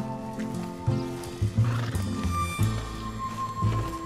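A horse in the open-world game Red Dead Redemption 2 whinnies and snorts through a few loud, close bursts, with hoof movement and game ambience underneath.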